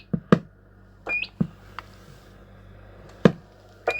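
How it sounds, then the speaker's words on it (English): A Cobra 148 GTL DX Mk1 CB radio sounds its roger beep, short sharp electronic tones after brief keying clicks and thumps, repeated a few times over a quiet hiss. "And of course has that very distinctive Mark 1 beep."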